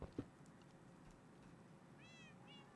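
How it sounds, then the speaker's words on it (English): Cat meows from the game Minecraft, two short rising-falling calls near the end, fairly faint over a low background hum after a couple of soft thumps. "I heard the meows."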